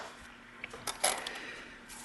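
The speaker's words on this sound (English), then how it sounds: "when it rotates back and forth, it should make that nice clicking sound as well" Aperture ring of a Minolta MC Celtic 135mm f2.8 lens being rotated back and forth during reassembly, giving a few faint, crisp metallic clicks spaced irregularly in a quiet room.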